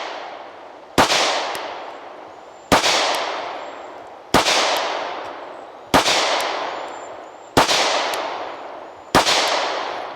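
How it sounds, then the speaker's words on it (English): A Springfield Hellcat pistol fires six loud, sharp shots at a slow, even pace about a second and a half apart, each crack trailing off into a long echoing decay, with no voices. "we're just going to crank off nice and slow and controlled 13 rounds"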